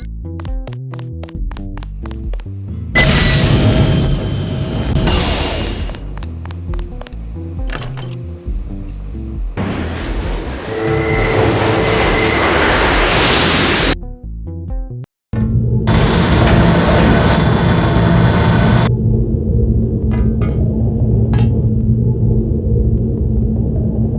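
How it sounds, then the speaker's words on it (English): A train in the video game Deus Ex: Machine God starting up and moving, with loud low rumbling and broadband mechanical noise in several surging sections, a brief cutout near the end, then a sustained droning hum with no speech. "Use the key I gave you on the control panel in the train. It should start moving immediately."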